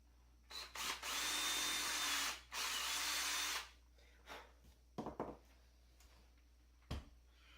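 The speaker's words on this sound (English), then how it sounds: "So I'm going to drill a hole there" A power drill bores a hole during 3D printer assembly and upgrades, running in two steady whining bursts of a few seconds each, followed by a few short clicks and handling knocks.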